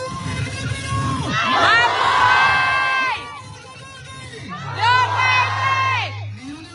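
A rally crowd in Melbourne roars with loud shouts and cheers in two big swells, mixed with chanting voices and whoops, close and dense.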